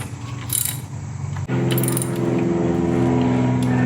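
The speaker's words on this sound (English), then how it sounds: "This loosens the tensioner, or this loosens the bolt that holds" A ratchet works on the bolt holding the belt tensioner of a VW Touareg during a fuel pump belt job, giving a steady close mechanical whir with a sharp change in tone partway through, with no talking.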